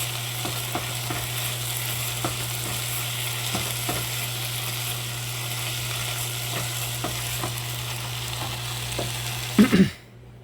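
Beef chili with tomato paste sizzling and frying in a pot while being stirred, a steady close crackle with soft scraping strokes, ending in a few louder clatters.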